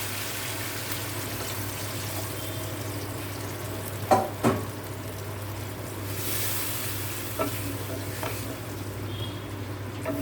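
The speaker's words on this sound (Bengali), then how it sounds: "এখন এর মধ্যে জল দিয়ে দেব" Boiled water poured into a pan of sizzling fried spice paste for a curd cauliflower and potato roast, with a steady frying hiss, a couple of sharp splashy bursts midway and softer stirring knocks afterward.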